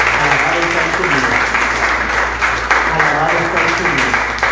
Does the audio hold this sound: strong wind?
no